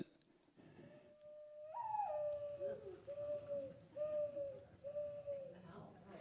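A person imitates a dove's cooing, a series of steady hooting notes repeated four or five times with short pauses.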